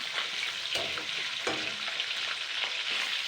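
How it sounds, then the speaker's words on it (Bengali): Pieces of pangas fish fry in hot oil and are turned over, a steady close crackling sizzle with a few utensil scrapes and knocks, no talk. "মাছগুলো এইভাবে উল্টে পাল্টে ভেজে নিতে হবে।"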